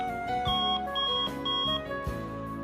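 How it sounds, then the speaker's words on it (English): A 113-decibel extra-loud alarm clock, the SB300SS, blares a loud, repeating pattern of piercing electronic tones that shift in pitch, close and continuous. "unique 113 decibel extra loud alarm with adjustable tone and volume control"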